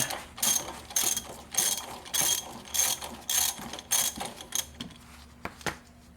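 A ratchet clicks in regular repeated strokes while backing a nut off the A/C compressor clutch of a 2007 Mitsubishi Outlander, close and sharp, the strokes growing shorter and more sparse toward the end.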